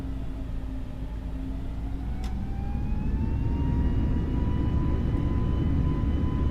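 Jet engines of a flybywire A32NX airliner in Microsoft Flight Simulator 2020 spooling up for takeoff from runway 25 right at Helsinki, a loud, continuous low roar with rising whining tones that grows stronger as the aircraft accelerates.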